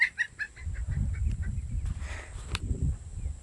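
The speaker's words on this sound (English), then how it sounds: "Chickens are having their little squabbles." Chickens squabble at close range on a small farm garden plot, a run of sharp clucks and squawks at the start giving way to scuffling and low rustling, with one more brief squawk later.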